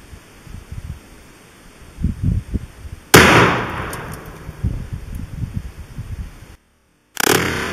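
A .223 Winchester rifle fires a single sharp, loud shot into ballistic gel outdoors, with a brief ringing decay, preceded by faint rustling and followed by a short gap and another burst of noise.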